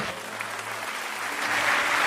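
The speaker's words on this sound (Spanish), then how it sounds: "Dale un aplauso a Dios." Congregation applauding in a church service, a steady broadband wash of clapping that swells slightly toward the end, fairly distant and diffuse with no clear individual claps.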